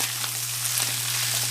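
Chile verde sizzles as it cooks in a pan, a steady, dense hiss of frying with fine crackles throughout, close and fairly loud, with a constant low hum underneath and no voices.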